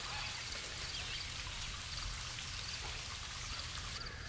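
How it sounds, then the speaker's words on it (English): A small trickle of water running in a Brazilian jungle gives a faint, steady splashing and dribbling, quiet and continuous with no voices over it. "I kind of like that there's just a little trickle of water"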